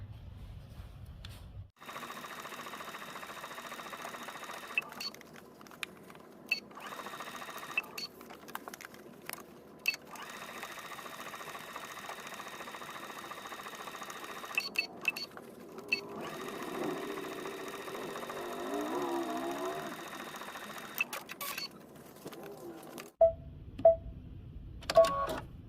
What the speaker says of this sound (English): I'm going to take it to the machine and I'm going to edge stitch the pocket.